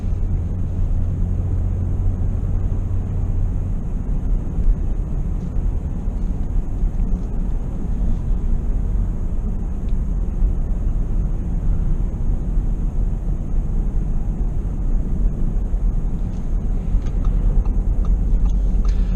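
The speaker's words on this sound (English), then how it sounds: "this is how the car sounds in comfort mode" A 2018 Audi S5 Convertible's engine and exhaust in comfort mode, a hushed, steady low drone with road and traffic rumble throughout, no talking.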